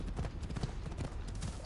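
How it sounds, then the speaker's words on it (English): A horse's hooves clop in a quick, even galloping rhythm in the Assassin's Creed Odyssey video game, close and fairly loud throughout. "it is going to be a ride across once my horse decides to show up"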